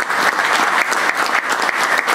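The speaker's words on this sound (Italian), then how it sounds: "farei un applauso" A conference audience at a tennis federation memorial event in Italy applauds loudly, with close, sharp and continuous clapping and a few brief surges in intensity.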